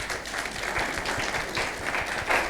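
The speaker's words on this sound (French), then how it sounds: "Je vous demande de l'applaudir très très fort." A studio audience at the Hello America show applauds a welcomed guest, dense steady clapping filling the room for a couple of seconds, swelling slightly toward the end.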